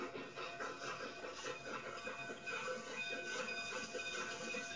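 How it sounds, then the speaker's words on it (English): The Cumbres & Toltec Scenic Railroad eastbound train from Chama pulls into a station, a soft, steady rumble and airy hiss held at a distance, fairly quiet and unbroken, with no speech. "Today, the eastbound train from Chama is first arrival in."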